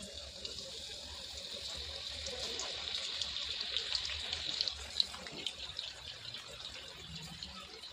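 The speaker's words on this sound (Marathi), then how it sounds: "आता आपण चिप्स फ्राय करायला घेऊया." Soft, steady bubbling and sizzling of Kerala-style banana chips frying in hot oil, a faint continuous fizz with small crackles throughout.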